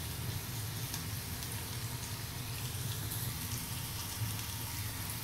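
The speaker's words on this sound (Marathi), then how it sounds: "छान असं परतून घ्यायचा कांदा" Chopped onion sautéing in a pan for a pea usal, producing a steady, soft hiss of sizzling oil that continues evenly without breaks, close by and alone.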